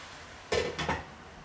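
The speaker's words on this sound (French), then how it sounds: "on va remettre le couvercle" A lid set back onto a cooking pot of stirred carrots and courgettes for chicken teriyaki, giving two close, quick metallic clinks a fraction of a second apart, then quiet.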